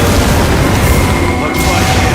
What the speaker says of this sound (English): Using the anti-wyvern gun!